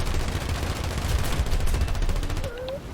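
Rapid bursts of automatic cannon fire from the turret of a German BV-138 flying boat in War Thunder realistic battles, a dense, loud stream of shots over engine drone, easing off near the end.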